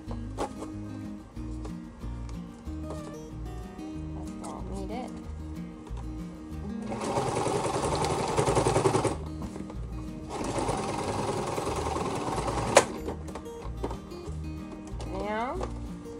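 A sewing machine stitches bug screen fabric for a sailboat in two sustained bursts of rapid, rattling needle action, with a quiet pause between them and softer handling noises before and after.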